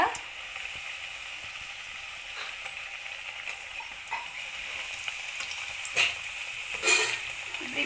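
Ellu vadai, crisp sesame fritters, sizzle steadily in hot oil on a low flame, a continuous close hiss with a few louder crackling bursts near the end as they are turned.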